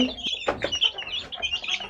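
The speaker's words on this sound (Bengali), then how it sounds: "এখন আমি এই মুরগিটাকে বের করে দেব আর এই বাচ্চাগুলো এখানে একাই থাকবে" A domestic hen in a coop with her chicks gives a rapid run of close, clear clucks mixed with faint chick chirps.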